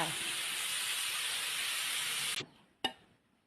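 Food stir-fried in a hot pan with lemongrass and curry paste gives a loud, steady wash of hiss and sizzle that stops abruptly, then one short sharp clatter and a brief fading tail.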